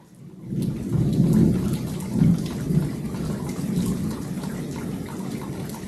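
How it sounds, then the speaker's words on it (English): A thunderstorm rolls over on a rainy day along the Camino, with deep rumbling thunder swelling in several waves over a steady background of falling rain. "I think I'll wait a while for this storm to pass."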